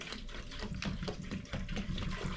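Vinegar poured into a rusty fuel tank on an old Honda Big Red three-wheeler, a steady, close splashing gush that runs unbroken throughout.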